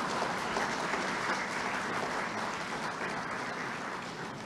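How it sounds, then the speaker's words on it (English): Sustained applause from a ceremony audience for awardees at a 2018 Independence investiture, a dense, steady clapping wash filling the whole stretch with no voices on top. "let us give all our awardees, our heroes, our resounding round of applause this afternoon."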